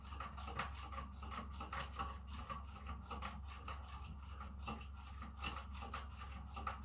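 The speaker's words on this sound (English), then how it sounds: "Good stir, you want all that sugar to dissolve up nicely." Sugar being stirred into homemade bubble mixture: a soft, continuous scraping and swishing in liquid with irregular gentle taps against the container, quiet and close, with a low steady hum beneath and no voices.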